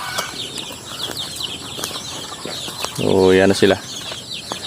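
Upgraded native chickens in a pen cluck and flap their wings nearby, with a loud burst of squawking and flapping midway while someone talks over them.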